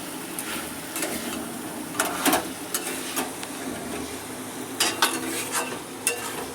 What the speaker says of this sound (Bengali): আর চর্বিগুলোকে এখনই দিয়ে দিলাম এটাকে ভালো মতো করে কষাবো